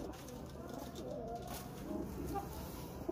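Kept pigeons coo softly in low, rolling bursts against a quiet indoor background, with faint rustling around them.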